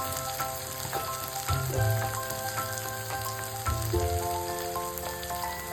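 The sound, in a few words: ridge gourd frying in a pan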